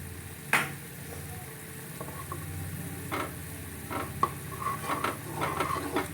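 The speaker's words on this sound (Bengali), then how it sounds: "এবার এটা ভালো করে নেড়ে নেড়ে শক্ত করে নেব।" Motichur laddu mixture with melon seeds being stirred in a pan, a low sizzle under scattered scrapes and knocks of the spoon against the metal, close and unhurried, with no talk.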